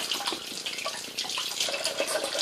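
Running tap water splashes steadily into a sink, a continuous hissing rinse with small splashy variations, close by and with no talking.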